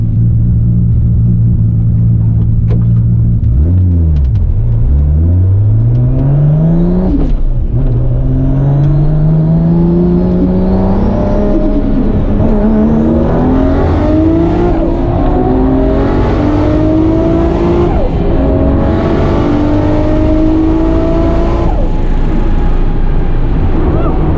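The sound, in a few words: 1300hp Mustang racing a Supra, engine revving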